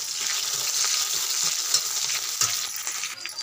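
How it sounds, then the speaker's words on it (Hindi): Garlic cloves, green chilies, onion and a bay leaf frying in a pan, a steady dense sizzle throughout with a few soft stirring scrapes and clicks, close and alone with no voices. "उसके बाद तीन चार कलियाँ लहसुन की, दो हरी मिर्च, एक प्याज और एक तेज़पत्ता। इसको हम एक दो मिनट अच्छे से भून लेंगे।"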